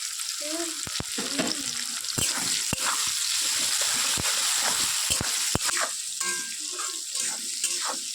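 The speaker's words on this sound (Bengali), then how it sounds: "এবার এর মধ্যে এই যে পেঁয়াজ, দুটো বড় বড় পেঁয়াজ কেটে রেখেছিলাম, এটা দিয়ে দেবো" Potatoes fry in a pan as two large chopped onions go in and get stirred, a continuous bright sizzle with repeated clattering scrapes of the spatula throughout.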